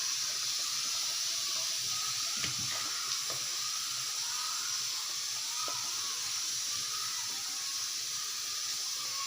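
Murrel fish dropped into a thick, simmering village-style curry, giving a continuous soft sizzle and bubbling hiss at an even level, with a few faint clinks and no voices.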